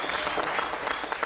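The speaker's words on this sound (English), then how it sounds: "A round of applause," Applause from a studio audience at a televised debate show, a dense, steady wash of many hands clapping close and loud, with no gaps and no speech over it.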